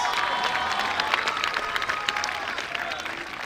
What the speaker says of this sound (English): Clap it up for Mama Sison, guys.